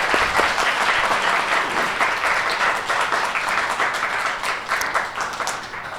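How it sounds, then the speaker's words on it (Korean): An audience claps steadily, the applause full and sustained from start to finish. "이민현 박사님께도 박수 부탁드립니다."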